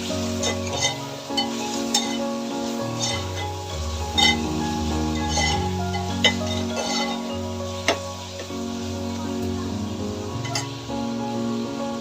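Tomatoes sizzling in a pan with onion, ginger and garlic paste, stirred with a utensil that clinks and scrapes against the metal at irregular moments over a steady, moderate frying hiss.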